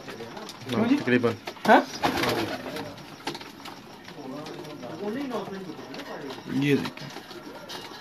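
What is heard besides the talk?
pigeons cooing in a loft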